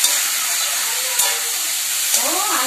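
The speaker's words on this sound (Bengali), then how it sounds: "এখানে আমার পাঁপড় এই যে ভাজা হয়ে গেছে, এবার তেল আছে কড়াইয়ে, এবার এটা ভেজে নেবো।" Papad frying in hot oil in a kadai gives a loud, steady sizzling hiss close by. A few brief clinks and a faint voice-like sound come near the end.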